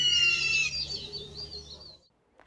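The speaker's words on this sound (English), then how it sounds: "Chirping birds." Small birds chirp and tweet in a bright, busy chorus that runs for about two seconds, then cuts off to near silence.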